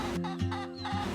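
Several turkeys gobble and cluck close by in short bursts on a small farm in the Philippines, a busy barnyard chatter with no talking.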